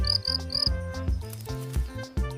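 A cricket chirps with its wings in a rapid series of buzzy, pulsing trills, close and clear, with no one talking over it.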